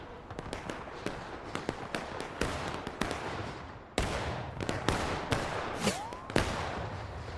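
Scattered musket volleys in the War of Rights video game, sharp cracks popping near and far in an irregular crackle of single shots and small bursts, with no talk.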